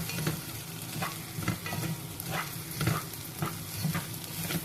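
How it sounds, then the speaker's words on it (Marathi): Lima beans and rice being sautéed with spices and bay leaf in a pan, a steady sizzle broken by regular scraping stirs every half second or so, close and moderately loud with no talking. "आता हे डाळ तांदूळ परतून झालेलं आहे"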